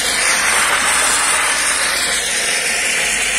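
Loud, steady hiss of steam being vented from a KPE-100 industrial cooking kettle, a continuous close rush of pressure release throughout.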